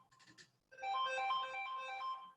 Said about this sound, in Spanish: perdón, me sonó aquí el teléfono